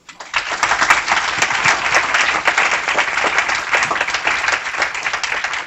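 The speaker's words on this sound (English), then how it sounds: "I would like to give everyone a big round of applause" A large audience at a child-development forum breaks into loud, sustained applause, dense clapping that swells quickly and holds steady without speech.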